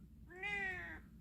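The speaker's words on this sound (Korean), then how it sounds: "우리 고양이 아들 호랑이라고 합니다" A young house cat, about a year old and bigger than a pet dog, gives one clear, drawn-out meow close by in a quiet indoor room, with no voices over it.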